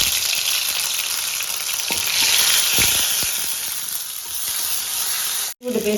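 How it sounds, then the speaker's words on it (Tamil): Ginger-garlic paste fries in about three spoons of hot oil for pepper chicken, making a loud, dense crackling sizzle. Sharp spoon clicks are scattered through it, and the sound cuts off abruptly near the end. "இஞ்சி பூண்டு பேஸ்ட் நல்லா வணங்கிருச்சு"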